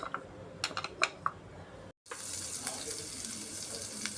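Ginger garlic paste fries in coconut oil in a kadai, starting with a few scattered crackles and pops, then after a short break becoming a steady, fairly soft hiss of sizzling oil, with no talking.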